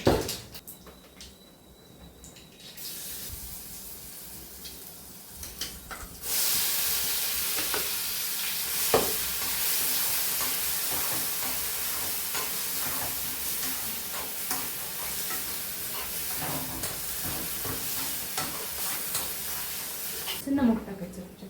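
Cumin and mustard seeds crackle and sizzle in hot oil, a dense, steady hiss that starts abruptly after a quiet opening and runs loud and continuous for about fourteen seconds before cutting off near the end.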